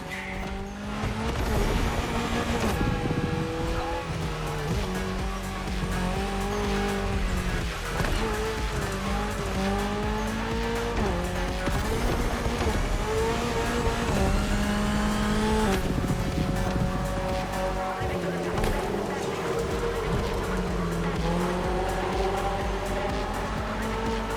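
Race cars in the video game The Crew Motorfest roar continuously with shifting engine pitch and gear changes, tire squeals and skids over a steady, loud mix with music-like tones throughout.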